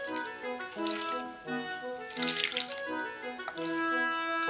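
Water pours from a tap into a container holding cauliflower florets, stems and vinegar: a continuous running, splashing flow for several seconds, close by, with ringing, bubbly tones as it fills.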